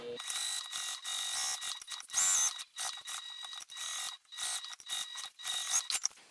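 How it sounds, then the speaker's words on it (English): A sewing machine runs in rapid mechanical bursts while stitching around the edge of kite fabric pieces, with short pauses between runs, close by and with no voices. "let's go ahead and just sew 1/8 of an inch all the way around this perimeter, getting all of this front piece secured together"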